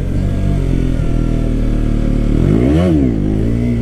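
A stock-exhaust 2017 KTM Duke 125 motorcycle pulls hard in second gear, its engine note loud and steady, rising in pitch, dipping briefly at a shift-like break, then climbing again, with no talk over it.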